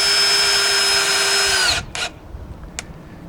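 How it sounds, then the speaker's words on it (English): A power drill drives screws to fix panels onto a mobile home, one loud steady whirring run that cuts off, followed by a couple of short bursts and faint clicks. "So she's screwing these panels on here."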